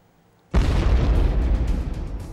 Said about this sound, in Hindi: एक के बाद एक धमाके